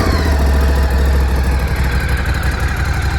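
Ducati Scrambler 1100 motorcycle engine idling after its first start, a steady close, loud low rumble with an even pulsing beat throughout.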